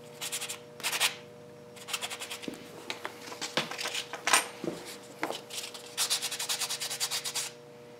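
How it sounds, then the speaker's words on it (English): Sanding and buffing blocks rubbing back and forth over a metal coin ring being polished, giving repeated rhythmic bursts of close scratchy friction with brief pauses between strokes. "sanding and buffing blocks to"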